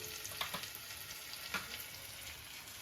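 Garlic going into marinated mutton in a hot pan gives a steady sizzle and fry hiss, with two soft clinks or stirring taps near the start and middle, close and moderately loud, no talking.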